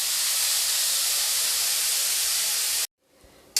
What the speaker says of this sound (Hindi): अब मैं अनियन को गोल्डन ब्राउन होने तक भूनकर तैयार कर लूँगी